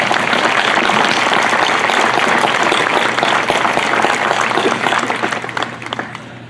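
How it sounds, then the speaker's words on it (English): A large commencement audience applauds in a dense, loud, sustained wash of clapping that holds steady, then thins out and fades toward the end. "Let's give them a round of applause."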